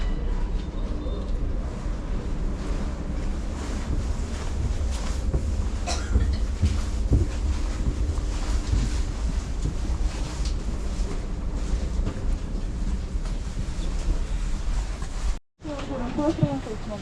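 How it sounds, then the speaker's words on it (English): A train at Tbilisi Central station bound for Batumi, Georgia, gives a steady, heavy rumble with wind buffeting the microphone throughout, then cuts off briefly near the end before a short burst of other sound. "That's the train."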